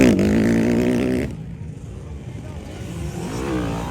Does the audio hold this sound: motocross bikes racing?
yes